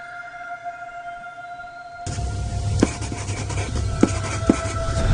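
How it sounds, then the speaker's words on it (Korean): Pen scratches across paper as a radio drama sound effect, a continuous rough writing noise starting partway through with a few sharper strokes over a faint steady tone. "작은 글씨로 여분의 공간을 남기면서 적었다"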